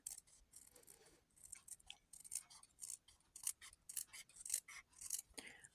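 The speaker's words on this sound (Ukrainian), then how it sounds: "Тут є пунктир, вирізаю, потім буду зшивати." Scissors snip along a dotted line, cutting out a bead-embroidered Christmas ornament by hand; close, crisp clicks come in a quick irregular series of short blade closures with no talking.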